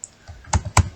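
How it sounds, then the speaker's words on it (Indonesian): Several sharp keystrokes on a computer keyboard while typing programming code, a few separate clicks with short pauses between them, close and fairly quiet. "kita ketik"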